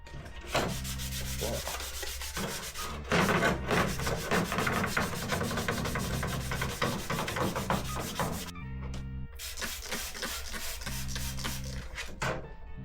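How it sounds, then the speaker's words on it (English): Continuous rasping of a sanding block scrubbed back and forth over a scooter's hard painted surface, steady and close, with a brief pause partway through before it resumes. "Use a block if you don't know how to sand."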